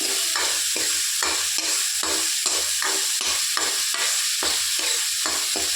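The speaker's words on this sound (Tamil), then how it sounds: "இது நல்லா வதங்கி வரட்டும்." Onions and other egg gravy ingredients fry in a pan with steady sizzling, while a spoon scrapes and stirs in regular strokes close to the microphone, with no talking.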